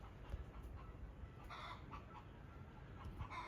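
A hen clucks inside a shed after laying an egg. The calls come as soft, faint, distant bursts over a quiet background, with no talking.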